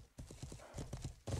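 Horse hooves clip-clop in a video game, a quick run of close, sharp hoofbeats across the whole short stretch, with a brief burst of voice near the end.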